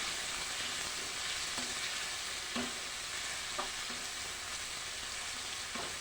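Chopped onion is stirred into a cooking tomato and onion mixture, a quiet, even sizzle punctuated every second or so by soft spatula scrapes against the pan.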